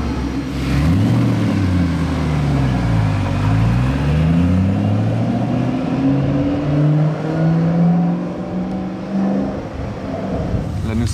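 Gulf-liveried Ford GT sports car on a city road, its engine droning loud and close with rising and falling pitch as it revs and moves, while a voice talks over it.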